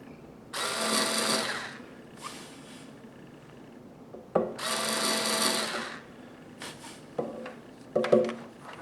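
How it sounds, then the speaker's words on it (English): A power drill with a 3/16 drill bit runs in two main bursts of several seconds each, separated by a pause, with shorter whirs and clicks between and after, close and fairly loud. "looks like 3/16 drill bit."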